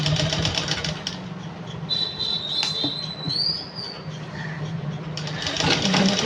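A sewing machine stitching a black churidar, a steady mechanical whir with a brief higher whine in the middle, moderately loud and continuous with no talking.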